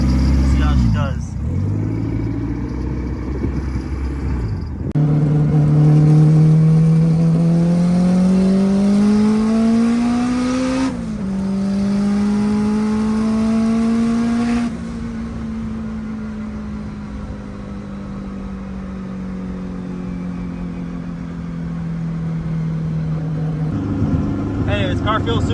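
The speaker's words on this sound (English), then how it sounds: "We're about to go do a test drive on the new setup of the all-wheel drive." An all-wheel-drive Honda CR-V with a K20 engine swap revs and pulls hard on a street test drive, engine pitch climbing through a couple of gear changes before settling into a steady drone, with people talking over it.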